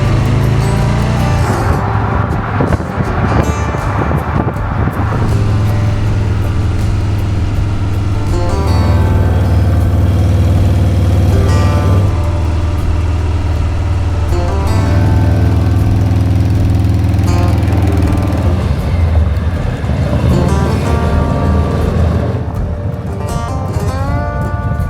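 A Harley-Davidson Low Rider ST motorcycle engine runs loud and close for about 25 seconds, a throbbing low idle that swells and settles in several revs, with rough knocking pulses throughout.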